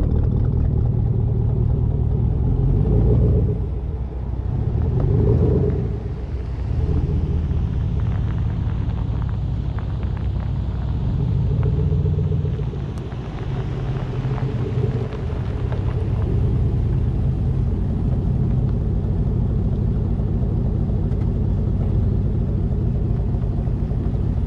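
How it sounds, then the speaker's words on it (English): A pickup truck rolls off a driveway onto flat ground, its engine giving a steady low rumble with a few soft surges throughout, fairly close and continuous. "So let's pull the truck on some flat ground, and then we'll pull it off the driveway"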